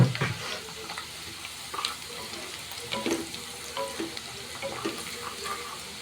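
Sliced onion with a pinch of salt frying in a pan for a Malvani prawn curry, a continuous sizzle broken by repeated stirring scrapes and soft clinks at close range.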